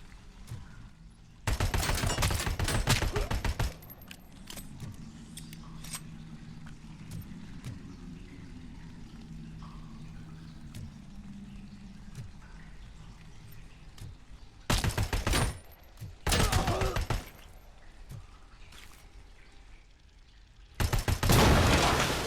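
Turret gunfire in the video game RoboCop: Rogue City, heard as several loud rapid bursts of automatic fire separated by stretches of low game ambience and mechanical hum, with the final burst cutting in near the end.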